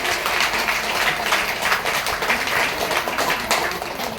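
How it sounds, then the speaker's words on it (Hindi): A church congregation claps hard all together at a prayer meeting, a thick and even burst of many hands with no voices standing out. "एक बार जोरदार ताली करिए।"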